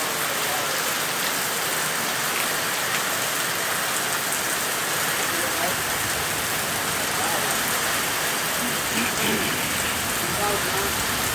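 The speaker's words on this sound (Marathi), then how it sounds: "पावसाच्या सरी बघा" Heavy unseasonal rain pours down steadily in a stormy downpour, a dense continuous hiss of drops on surfaces close by, with a voice speaking over it.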